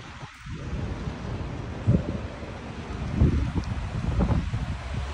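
Rain falling outdoors, heard as a steady wash of noise with wind buffeting the microphone and a few low rumbling thumps, with no talking.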